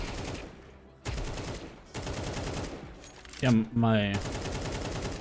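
Counter-Strike 2 gunfire rattles out in sustained automatic bursts broken by short pauses, and someone speaks briefly between the volleys.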